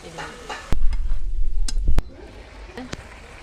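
Hilsa fish pieces cooking in a ground mustard and green chilli paste in a pan, with loud close scraping stirs and thumps over a low sizzle, a voice faintly present in the background.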